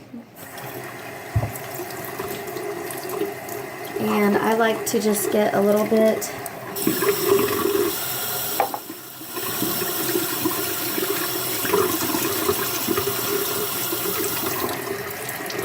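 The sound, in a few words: warm tap water running into sink for washing makeup brushes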